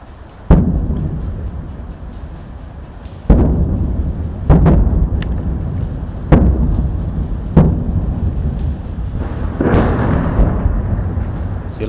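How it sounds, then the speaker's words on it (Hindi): Heavy artillery shelling across the Line of Control, with a series of deep booming explosions spaced a second or two apart. Each blast is loud and rolls off into a long rumble. "ये उस शेलिंग की आवाज़ है।"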